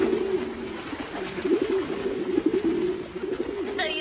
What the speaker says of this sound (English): I like coming to this park when the doves are molting